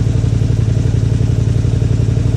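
A Honda Spada motorcycle engine being brought back to life runs loud and close with a steady throbbing pulse and rattling clatter, rev held high and even throughout.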